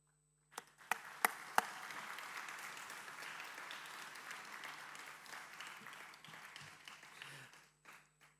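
Applause at a university degree convocation ceremony, starting with a few distinct sharp claps before swelling into continuous, even clapping from a large seated audience that tapers off near the end.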